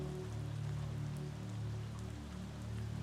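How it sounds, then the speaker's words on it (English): Soft, steady rain patters against windows in a quiet bedtime setting, a faint continuous hiss of drops over a low background hum. "The rain patters against the windows."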